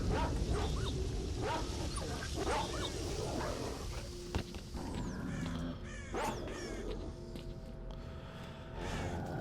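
Dogs bark and yelp in S.T.A.L.K.E.R. Shadow of Chernobyl as a boar chases them through the Cordon area. Several short, sharp barks repeat in irregular bursts at mid distance over a steady outdoor background.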